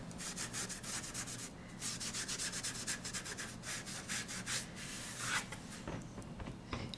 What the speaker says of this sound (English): sponge tone on tone with the same color ink as the cardstock